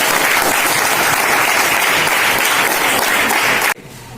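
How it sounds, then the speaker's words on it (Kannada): Audience applause welcoming guests at an education officials' event for students, dense loud clapping from a large crowd that runs steadily before cutting off abruptly near the end. "ದೊಡ್ಡ ಚಪ್ಪಾಳೆಯ ಮೂಲಕ ಸ್ವಾಗತವನ್ನ ಮಾಡಿಕೊಡ್ತಾ ಇದ್ದೇವೆ"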